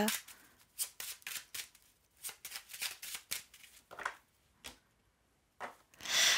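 Oracle cards from a mirror oracle deck are shuffled and drawn for a thirteen-card spread, heard as close, quiet bursts of riffling and sliding card flutter separated by short pauses.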